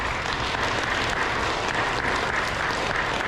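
An audience applauds at an elementary school K-2 awards ceremony, with dense, steady clapping filling the whole stretch and no talking over it.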